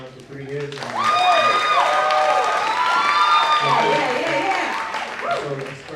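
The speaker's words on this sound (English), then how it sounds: "I'm gonna say it again and then you just gonna clap." An interview audience claps and cheers on cue, a sustained burst of applause and whoops that swells quickly and holds, with voices mixed through it before it fades.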